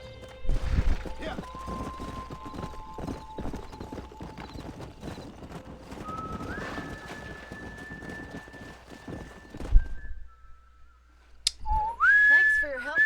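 Horses clip-clopping in the Red Dead Redemption video game, a steady patter of hooves beneath a whistled tune, with brief speech and a horse's whinny near the end.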